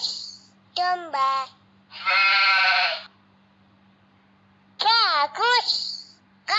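A sheep bleats once in a children's educational animal game, a loud sustained bleat in the middle. Bright child-like voices speak before and after it.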